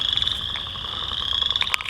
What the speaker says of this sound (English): Lots of frogs in here, guys.